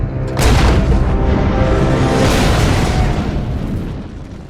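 A cannon booms loudly in Codename: Panzers Phase Two, followed by a long rumbling explosion that rolls on for several seconds before slowly fading.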